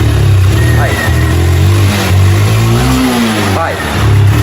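A Honda Fan 160 motorcycle engine revs up and down loudly and close by, with a steady idle rumble between throttle blips and a noise fault under acceleration; people talk over it.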